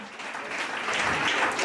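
Audience applause at a French stand-up comedy club, a short burst of clapping that swells slightly louder toward the end.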